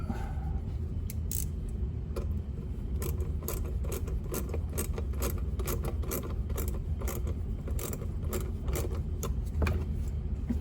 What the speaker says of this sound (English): Now we're going to tighten that up.